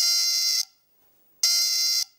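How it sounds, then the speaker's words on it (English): A homemade fire alarm, triggered when a lit candle heats a piece of metal, gives two loud, shrill electronic buzzes of about half a second each, separated by a short silence. "Every time I place the candle underneath this piece of metal, it goes off like a fire alarm"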